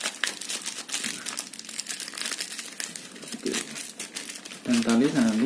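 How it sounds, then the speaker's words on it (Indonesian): Plastic bag crinkled and tied shut after a nasal irrigation kit is put inside, heard as close, busy rustling and crumpling for several seconds, with a voice talking over the end. "ini langsung kita masukkan plastik, kemudian kita tali"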